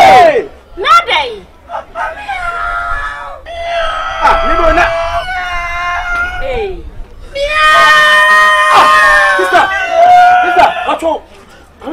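A person imitates a cat with a string of loud, drawn-out meows and yowls that rise and fall in pitch, close by, mixed with shouted voices.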